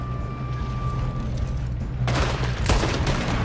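Gunfire in the western video game Red Dead Redemption II: after a low steady rumble of ambience, a loud shot cracks out, followed moments later by a second sharper report.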